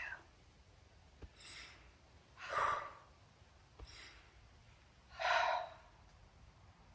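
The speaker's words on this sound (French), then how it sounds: "Inspire, expire." Slow breathing during a qigong session, two long audible exhales with softer inhales between them, close and quiet against a hushed room with a couple of faint clicks, no talking.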